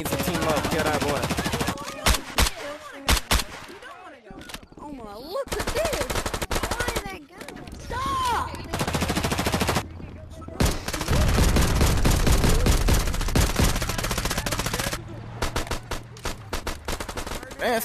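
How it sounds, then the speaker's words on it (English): Rapid bursts of automatic gunfire and heavy explosive blasts from RPGs in the multiplayer game Rec Room, in a Detroit hood roleplay lobby. The shots rattle loud and nearly continuous with short gaps, and voices chatter underneath. "Man, stop shooting RPGs."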